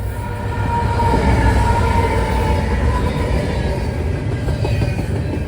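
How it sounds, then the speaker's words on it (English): A CSX International double-stack freight train passes close by on the mainline in Illinois or Indiana, a steady, loud rumble and roar of rolling wagons that holds throughout. "a CSX International double stacker came in"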